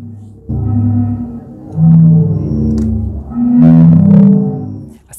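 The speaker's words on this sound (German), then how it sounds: "Was Sie da hören, sind die Töne der sogenannten Meeresorgel." Zadar's Sea Organ sounds as incoming waves push air through pipes beneath the waterfront steps, giving loud, low, breathy organ tones that swell and overlap in slow, uneven surges.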